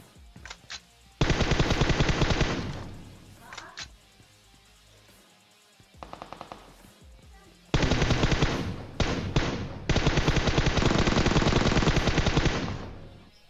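Bursts of rapid automatic gunfire from the video game PUBG Mobile, loud and close, with long sustained volleys separated by brief quieter gaps and scattered single shots.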